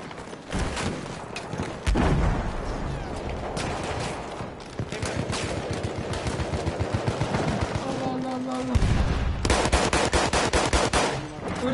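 Sustained machine-gun fire in a Battlefield 1 World War I battle, long rattling bursts of rapid shots, loud and close, with booms and scattered shouting voices in the background.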